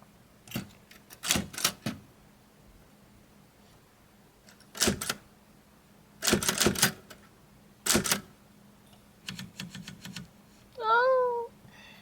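A Smith-Corona typewriter with a new red ink ribbon types in clustered bursts of sharp, close key strikes separated by pauses, ending with a ratcheting carriage return and bell-like zip; a cat meows softly near the end.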